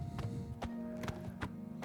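Horse hooves clip-clop at a steady walk near Battlehorn Castle in Oblivion Remastered, several crisp, evenly spaced hoof strikes over a faint background tone.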